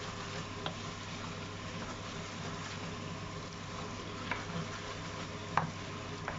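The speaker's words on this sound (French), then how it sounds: "jusqu'à ce que le beurre soit entièrement fondu, mélanger dans mon blé" Ebly wheat stirred with melting butter in a pan, a steady low sizzle under soft scraping and occasional light clicks of the utensil against the pan, close and continuous.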